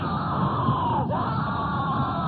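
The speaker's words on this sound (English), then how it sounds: "And there goes the blood-curdling scream." A sustained, blood-curdling scream from the creepy cartoon suicidemouse.avi, harsh and loud, filling the whole stretch without a break and distorted, with no talk over it.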